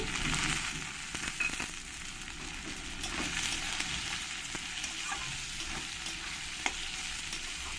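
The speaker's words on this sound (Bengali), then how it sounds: "আমি পেঁয়াজগুলো ভালো করে লাল লাল করে ভেজে নিয়েছি এবার এর মধ্যে দিয়ে দেবো আমি টমেটো" Two large chopped tomatoes go into onions already fried until reddish-brown in a pan, with loud, close sizzling and frying and continuous scraping and stirring of a spatula, and one sharper knock near the end.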